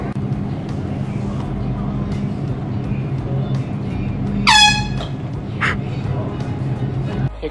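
A single loud air horn blast bursts out sharply mid-clip in a store as a prank on a girl, followed by a shorter second honk, over a steady hum of background noise.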